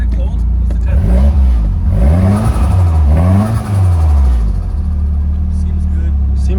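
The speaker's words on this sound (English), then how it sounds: "Give it a couple revs." Nissan 240SX engine revved up and down several times in rising and falling swells over a loud idle, close by, with people talking around it.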